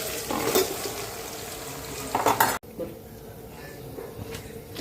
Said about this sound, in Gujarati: હવે એની અંદર કાપેલા રોલ અમે નાખી દઈશું।